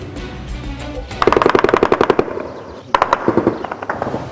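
Rapid bursts of automatic gunfire crackle in two volleys separated by a brief pause, loud sharp rhythmic shots echoing outdoors, heard in a village near the Turkey-Syria border.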